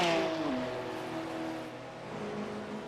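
A Porsche race car with quad headlights passes at Le Mans, its engine a loud, sustained drone with a falling pitch as it goes by, then fading into steady track noise.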